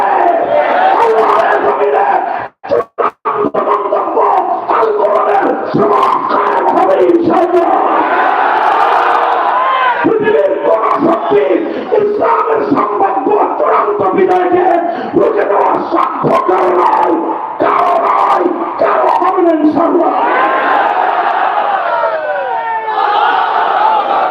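A large crowd at a religious rally at Dinajpur Boro Math chants slogans in loud, rhythmic unison, with bursts of shouting that carry on almost without a break.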